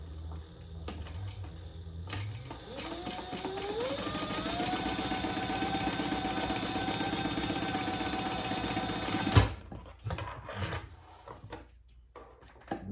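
A sewing machine stitches across the top edge of a fabric wallet, its motor revving up into a steady, loud rapid whir for several seconds before stopping abruptly, with a few clicks and handling noises after.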